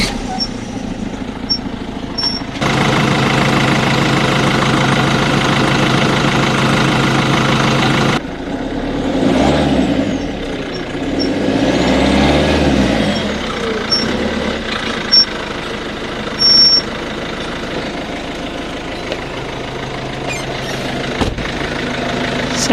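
A Peugeot 206 CC engine cranks with a loud whirring burst after a timing belt replacement, then catches and settles into a steady, rumbling idle that continues for a long while.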